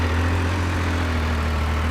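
A Triumph Speed Triple 1200 RS three-cylinder motorcycle on its stock exhaust runs with a steady, low engine hum and drone close by, unchanging throughout with no voices.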